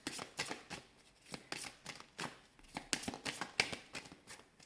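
Tarot cards shuffled and drawn by hand, a quiet, close series of crisp riffling flicks and soft slaps in an irregular rhythm, with no talking over them.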